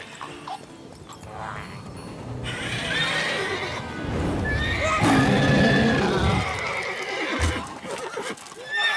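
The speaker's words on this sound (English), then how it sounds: "Roach, what a good horse." Roach, a horse in the video game The Witcher 3, whinnies loudly over continuous clip-clopping hooves and busy game ambience, with the neighing swelling midway and the hoofbeats carrying on throughout.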